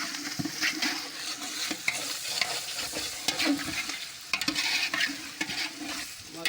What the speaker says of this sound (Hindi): चिकन को ज़्यादा फ्राई करते हैं